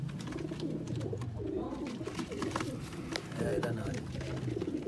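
Sialkoti pigeons coo in a low, rolling stream close by, with soft overlapping calls running steadily throughout alongside someone talking.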